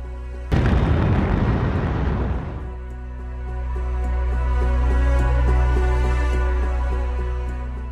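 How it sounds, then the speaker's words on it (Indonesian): A massive atomic bomb explosion over the city of Hiroshima in 1945 opens with a sudden, loud broadband blast that roars for about two seconds, then gives way to a long, deep rumbling swell that rises and lingers. "kota Hiroshima luluh lantak setelah dijatuhi bom atom oleh Amerika Serikat"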